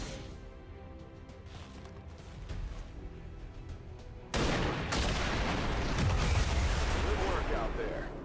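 A van blows up in the XCOM 2 video game, a sudden loud blast followed by sustained crackling debris and roaring fire over a low game-music bed.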